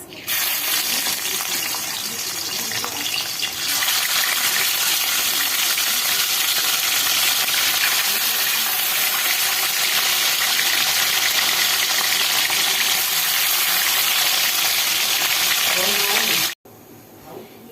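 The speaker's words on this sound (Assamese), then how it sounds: "ইয়াত অলপ মই মিঠাতেল দি দিছোঁ মাছখিনি ফ্ৰাই কৰিবৰ কাৰণে।" Fish frying in hot mustard oil, a loud continuous sizzle that stays strong throughout and cuts off abruptly near the end, with a voice talking faintly beneath it.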